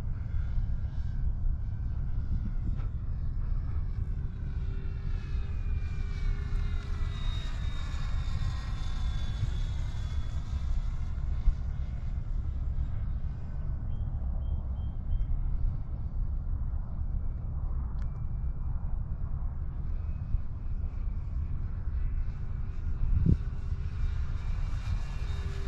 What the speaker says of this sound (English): Plane flies so good and it looks so pretty.